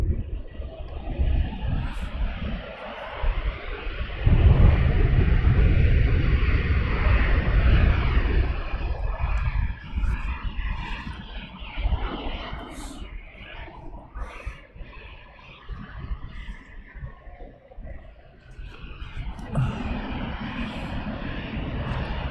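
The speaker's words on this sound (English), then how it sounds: "So the Ryanair now, he's going to also do the straight out departure." A Ryanair airliner departs Luton Airport on a straight-out departure on a windy afternoon, giving a loud, broad jet roar that swells after a few seconds and then holds as a steady, slowly fading rumble.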